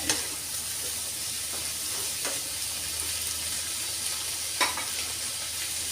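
Cauliflower and fresh shrimp stir-fried in a pan over medium heat give a soft, steady sizzle with a few faint scrapes of stirring, close by and even throughout, with no talking.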